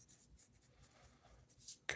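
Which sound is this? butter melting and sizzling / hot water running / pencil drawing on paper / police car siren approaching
pencil drawing on paper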